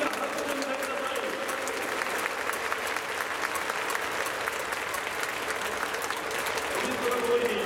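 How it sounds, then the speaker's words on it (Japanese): Loud applause from a stadium crowd at a professional baseball game during a ceremonial first pitch, continuous dense clapping that holds steady for several seconds, with faint crowd murmur mixed in. "大きな拍手をください。"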